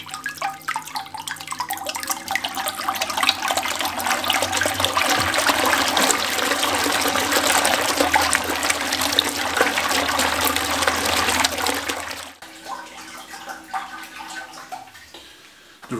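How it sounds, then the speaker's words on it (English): Wort is churned hard by the pump of a Speidel Braumeister 10L home brewing machine running at maximum, giving a loud continuous gushing, splashing water rush with a steady motor hum that abruptly drops to a quieter trickle near the end. "the pump activity in this Braumeister is very aggressive"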